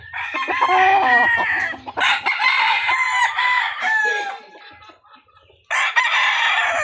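A one-year-old Yellow Legged Hatch gamefowl rooster of derby size, from Nam Game Farm lines, crows loudly and close by in a backyard, three long crows split by short pauses, with clucking underneath.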